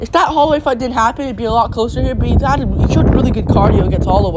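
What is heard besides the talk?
No distinct noise like a dog, phone or traffic.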